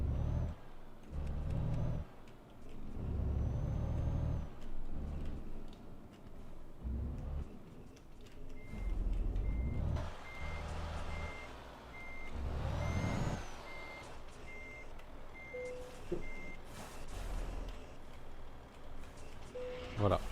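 Truck reversing to couple a trailer in Euro Truck Simulator, with a steady run of reversing beeps over a low diesel engine rumble and air brake hiss, while someone talks over it.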